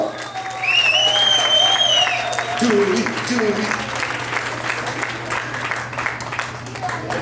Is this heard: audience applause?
yes